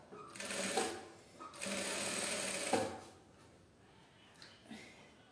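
A sewing machine stitches a large tote bag in two close, sustained bursts of rapid whirring, each stopping sharply, followed by quieter handling noises.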